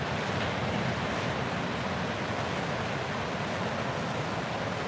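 Steady broadband roar of ocean surf breaking on a surfable beach, continuous and fairly loud with wind noise on the microphone and no talk.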